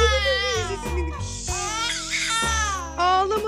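A baby cries in sustained, wavering wails with brief breaks, loud and close, while adults speak soothingly over and between the cries.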